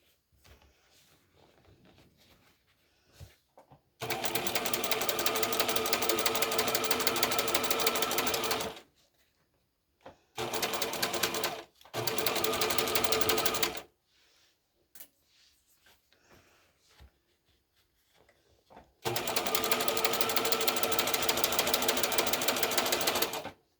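Sewing machine stitching a fabric bag, running in long steady bursts of rapid mechanical chatter that start and stop several times, with quiet pauses between runs and no voices.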